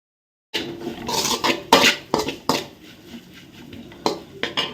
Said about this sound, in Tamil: இப்போ எல்லாத்தையும் நல்லா மிக்ஸ் பண்ணுவோம்